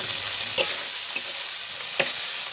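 Chopped tomato fries with spice paste for a catla fish curry, a soft continuous sizzle broken by two or three sharp scraping stirs of the spoon against the pan, with no talking.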